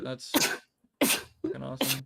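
A single sharp sneeze bursts out between stretches of someone talking casually, brief and close to the microphone.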